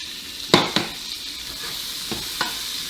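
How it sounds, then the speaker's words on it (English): Onions sizzle steadily in a pan of leftover bacon drippings, a close, even hiss broken by a few sharp utensil clinks early on and fainter ones near the end. "Now we're going to add our onions"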